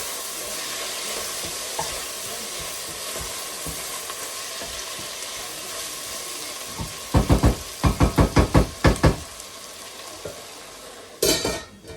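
Food sizzles steadily in a frying pan, and a utensil scrapes and knocks against the pan in a quick rhythmic run as it is stirred, with another clatter near the end.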